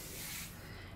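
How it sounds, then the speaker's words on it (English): Spray-on varnish hissing from an aerosol can onto a paper label, a short steady close hiss that fades toward the end. "label with spray on varnish and leave that to dry"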